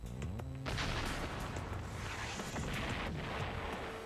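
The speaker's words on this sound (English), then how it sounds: "This simple, harmless-looking box can fire 15 missiles at 15 different targets" Missile launch from an NLOS-LS launcher box: a loud, sustained roaring rush with booming low rumble and wind buffeting, continuous for several seconds with no voices.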